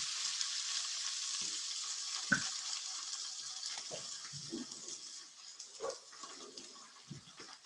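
Tuna sears in a hot frying pan with a steady, soft sizzle that fades a little over time, broken by a few quiet clinks and knocks of a utensil or the pan.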